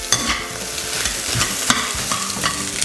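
Leftover rice for egg fried rice is stirred and fried in a hot pan, giving a steady sizzle broken by frequent scraping and clattering strokes of the spatula, close and loud, with no voices.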